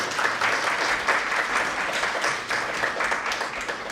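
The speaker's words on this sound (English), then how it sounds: "So, big applause for Nelu." Steady, dense applause from a crowd fills the whole stretch, many hands clapping at once without pause.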